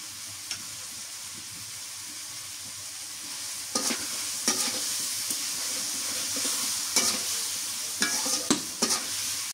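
Garlic paste and onion paste fry in hot oil for a village-style egg curry, a continuous close sizzle broken by several loud scraping strokes of a spoon stirring in the pan during the second half.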